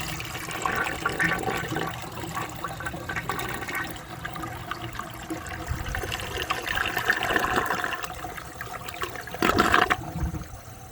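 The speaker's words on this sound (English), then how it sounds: "so it should flush as intended" A 1983 Mansfield Imperial toilet flushes, a steady rushing of water that holds for several seconds and then swells into a louder gurgling surge near the end, heard up close with no one talking.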